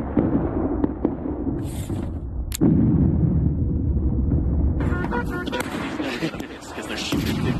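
Musket volleys crack out in War of Rights, a Civil War battle game: a single sharp report, then a sustained roar of massed firing from a distant line, with voices murmuring underneath.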